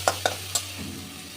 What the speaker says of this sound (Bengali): দিয়ে খুব ভালো করে এটাকে কষে নেব। ভালো করে ভাজা ভাজা হয়ে গেছে,